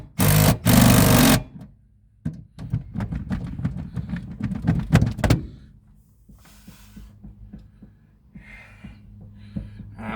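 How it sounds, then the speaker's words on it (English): Impact driver on the seat nuts of a car, heard up close as a loud opening burst followed by a long stretch of rapid hammering pulses, then quieter clicks and handling noises with no talk. "These we can get the impact driver on."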